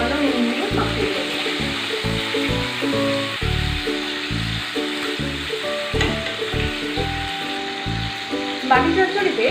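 Prawns sizzle briefly in a little oil in a pan for a Bengali chingri bati chochchori, stirred with rhythmic scraping and clatter over a steady frying hiss.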